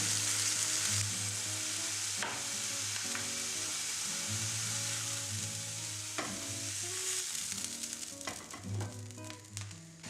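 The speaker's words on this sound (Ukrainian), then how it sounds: "На сковорідку знову наливаю трішечки олії і запечатую м'ясо." Loud, steady sizzling of meat searing in a little oil in a hot frying pan, continuous throughout with occasional scrapes and clinks.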